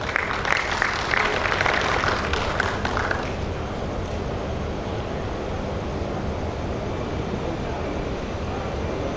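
Audience applause for a guest speaker, a commercial manager, at a grain mills customer recognition ceremony; a burst of clapping in the first few seconds gives way to a steady murmur and room noise.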